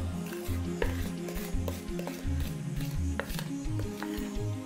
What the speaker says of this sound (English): Just mix politely.